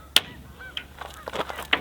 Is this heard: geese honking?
yes